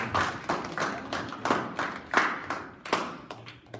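A small group claps at a church high school ministry night, welcoming people to the front: a close, uneven run of distinct hand claps that thins toward the end.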